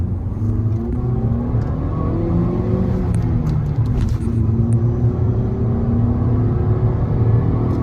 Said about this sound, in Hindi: लेट्स सी 0 to 60 कितना क्विक होता है इसमें।